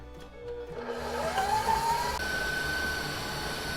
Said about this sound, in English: We'll lift our bowl up, put this on a decent high speed, and we're gonna get these creamed together.